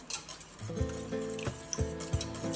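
A spoon mixes egg paneer ingredients in a bowl, giving a steady run of close, clinking scrapes about every half second. Each stroke rings briefly against the dish, and no voices are heard.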